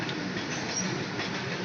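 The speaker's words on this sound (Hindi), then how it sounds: "रेलगाड़ी छुक छुक छुक छुक" A train rolls past steadily and close, a dense continuous rumble and rattle of railcars that fills the whole moment without any voices.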